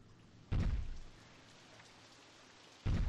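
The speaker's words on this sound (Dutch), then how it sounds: "Voor een woestijnachtige omgeving regent het best wel vaak eigenlijk." Rain falls in a desert setting in the game Roller Coaster Tycoon 3, a soft, even patter broken by two brief louder bursts, with no talk.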